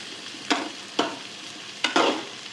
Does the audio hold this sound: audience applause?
no